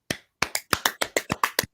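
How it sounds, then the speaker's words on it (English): A small group claps in a quick, uneven burst of about ten sharp, close slaps lasting under two seconds. "let's just have a clap"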